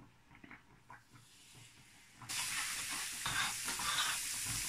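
Garlic oil sizzles in a frying pan previously used to grill prawns, a faint stirring patter at first, then a sudden loud, steady frying hiss as more oil hits the hot pan.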